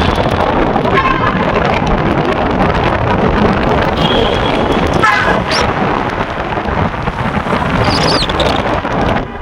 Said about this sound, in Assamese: ইমান বতাহ ঠাণ্ডা লাগি আছে